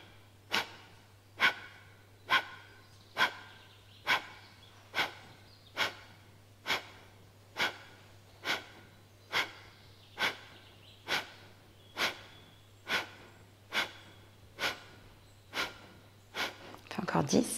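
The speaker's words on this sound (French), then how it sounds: "On va prendre une grande inspire par le nez, on expire." Rhythmic breathing during an advanced yoga arm-balance practice, with regular forceful breaths roughly every 0.9 seconds repeating steadily for the whole stretch, close and clear over a low constant hum.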